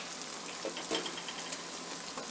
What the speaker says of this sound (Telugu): పేస్ట్ వేసుకొని ఫ్రై చేసుకోవాలి.